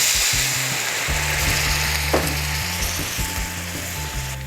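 Seafood and onions cook in a hot pan with a splash of white wine, giving a loud, steady sizzle with light scraping and occasional pops, heard up close without talking.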